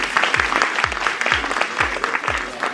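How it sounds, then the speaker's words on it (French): Applause greeting the millionth visitor at a media library, a steady wash of clapping with rhythmic low thumps pulsing roughly every half second underneath, sustained and fairly loud throughout. "je voudrais simplement les applaudir"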